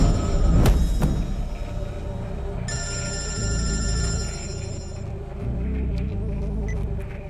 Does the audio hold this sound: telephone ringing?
yes